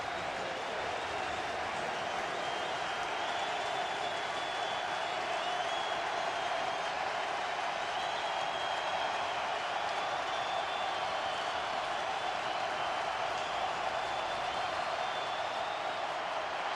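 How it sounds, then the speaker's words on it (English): Loud, steady roar of a packed NFL stadium crowd at FedEx Field during a Packers at Redskins game, a dense continuous wash of noise holding for the whole stretch with no break. "awfully loud right now here at FedEx Field"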